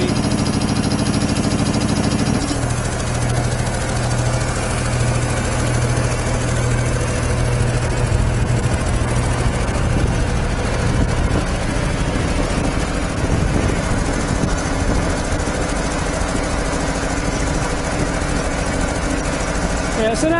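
A 25-horsepower single-phase air compressor idles with a steady, throbbing low rumble and mechanical clatter, close by, with wind buffeting the microphone throughout.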